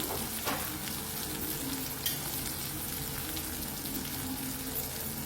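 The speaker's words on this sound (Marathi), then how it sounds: "हे मसाले तेलावर छान परतून घ्यायचे बघा" Turmeric, coriander powder and kitchen king masala fry in hot oil with coriander leaves, a steady, dense sizzle that holds evenly throughout, with a faint scrape of stirring near the start.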